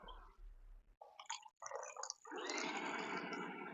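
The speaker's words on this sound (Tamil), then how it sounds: "பாருங்கள் தண்ணி எந்த அளவுக்கு வெளியே ட்ரைன் ஆகி வருது பாருங்கள்." A mini washing machine drains water out onto the floor below, giving a steady, close gushing and splashing flow that builds after a few short bursts and runs on continuously.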